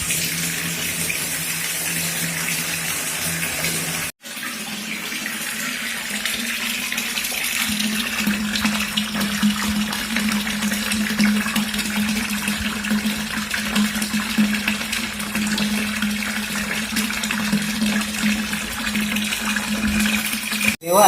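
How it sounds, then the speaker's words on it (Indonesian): An electric household water pump with an automatic pressure switch runs steadily while water gushes from a tap, a continuous close rushing flow over a low motor hum, briefly interrupted near the start, with no talking. "Jadi pompanya itu, pressure switch-nya sudah bekerja."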